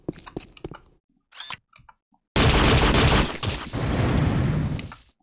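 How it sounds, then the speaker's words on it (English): Explosion in the game Unreal, a loud sustained blast with a rumbling tail, coming after a few sharp clicks and mechanical weapon sounds. "Just waiting for it to explode."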